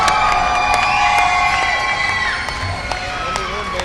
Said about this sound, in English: Big round of applause for your champion, Warlock.